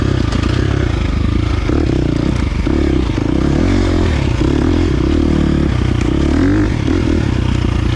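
A 2023 KTM 350 XC-F dirt bike runs at heavy throttle, its engine a loud, continuous buzzing roar mixed with clattering and scraping, close by and unbroken throughout, with no voices.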